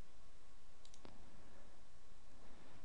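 A single computer mouse click on a search button, a brief faint tick against a steady background hiss with no other sound.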